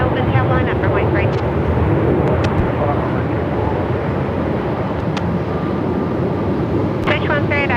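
Jet airliner landing at Melbourne Airport in gusty winds above 45 knots, a loud continuous roar and broadband wind rumble, with faint radio chatter and voices beneath.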